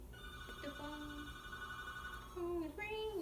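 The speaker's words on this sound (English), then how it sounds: "phone is ringing." A telephone rings with electronic tones in a steady pattern, then shifts to shorter rising notes near the end, over a faint room background, with some voice activity.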